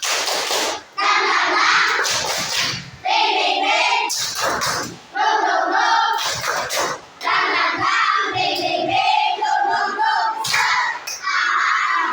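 Primary schoolchildren in a classroom perform a rhythmic spirit clap chant, bursts of group clapping alternating with loud chanted voices in a repeating pattern, with short pauses between phrases.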